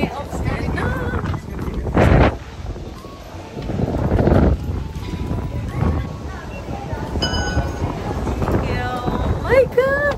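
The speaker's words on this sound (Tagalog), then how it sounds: "Lakas ang hangin." Strong, cold wind at Maokong in Taiwan, gusting in rough bursts that buffet the microphone while people talk over it.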